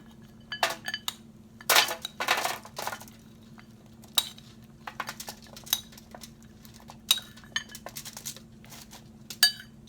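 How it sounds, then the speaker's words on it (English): Almonds tumble and scatter onto a foil-lined baking pan, making a series of light clinks and crinkly taps, some bursts louder than others, close and clear with no talking. "So what I'm going to do is put them on my prepared pan, little aluminum foil."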